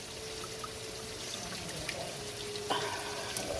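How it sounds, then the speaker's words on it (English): Thirty-two ounces of heavy whipping cream is poured into a pan, a soft steady liquid stream with faint splashes and a small clink near the end, close and quiet. "So I just pour the heavy whipping cream in there."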